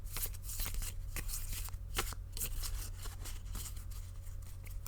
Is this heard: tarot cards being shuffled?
yes